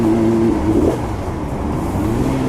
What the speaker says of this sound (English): If we go to vehicle, yeah, we're in sport exhaust. Yeah, it sounds good.